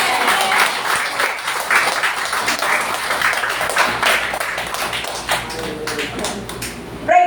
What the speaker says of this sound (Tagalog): Ang palakpak po para sa Panginoon.